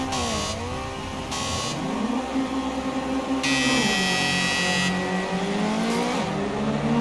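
Race car engines rev and climb through the gears at a race start in the racing game Project CARS 2, a loud, steady, layered engine drone with rising and falling pitch sweeps and a few high electronic tones.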